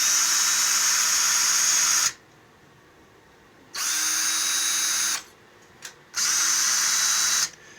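Two Ryobi cordless drills, one on a NiCad battery and one on lithium-ion, both set to the number 2 position, whine steadily in three bursts of about one and a half seconds each. Short pauses separate the bursts, with no talking.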